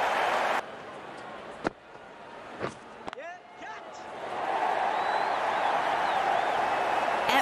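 Crowd at an IPL cricket match between CSK and RCB in 2022 roars in a sustained wash of cheering that swells after a few sharp bat-like knocks and brief quieter moments, loud and continuous by the end.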